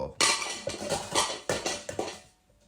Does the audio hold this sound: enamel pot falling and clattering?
yes